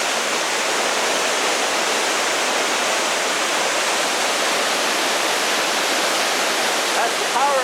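Loud, continuous roar of a waterfall crashing in Johnston Canyon, Banff, close by from a viewing cave in the rock, a dense wash of falling water that never lets up.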